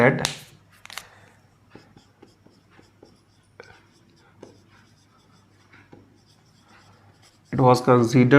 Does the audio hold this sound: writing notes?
yes